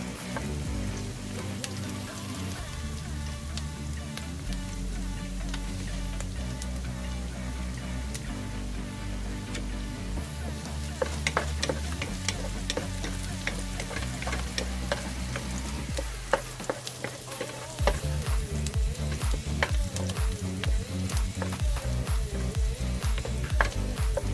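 Garlic sautés in a hot pan as a steady, close sizzle with scattered crackles and occasional stirring, continuing without talk.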